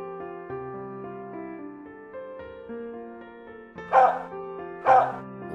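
Rural mongrel guard dog in an animated story giving two loud barks near the end, following a stretch of soft sustained background music with no talking.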